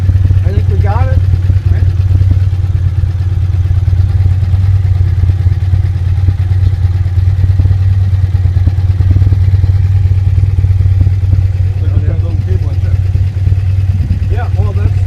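An airhead motorcycle engine idles steadily while its carburetors are tuned, a continuous low rumbling hum throughout. People talk intermittently over the engine.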